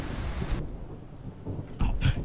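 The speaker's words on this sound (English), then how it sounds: "I gotta wait out this rain." Rain and rolling thunder in the Skyrim video game, a steady downpour hiss with low rumbles swelling and cracking louder near the end, no voices.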